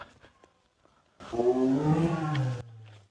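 A tiger at a wildlife breeding station in Chaiyaphum, Thailand, lets out one deep, rumbling roar lasting over a second. It stands alone after near quiet and is loud enough to seem fairly close.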